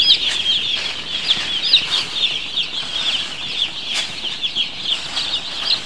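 Restless broiler chicks on a poultry farm on a hot day, a dense, continuous chorus of high peeping from many birds at once with occasional wing flutters, close and loud, no speech.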